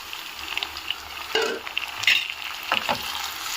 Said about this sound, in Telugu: ఇప్పుడు ఇందులోకి కట్ చేసి పెట్టుకున్న టమాటా వేసుకుందాము.